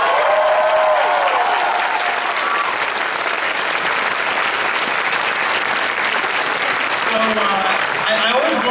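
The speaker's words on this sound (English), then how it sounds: "how about one more big round of applause for the BronyCon staff?" A convention panel crowd at BronyCon gives the event staff a big, loud, sustained round of applause with cheering, steady throughout, while voices call out over it near the end.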